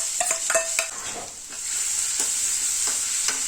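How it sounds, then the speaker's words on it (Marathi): Cumin and a green chili-ginger paste sauté in peanut oil, giving a steady close sizzle with a few quick scraping stir knocks from a utensil against the pan, and no voices. "एक मिनिट छान असं परतून घ्यायचं आहे"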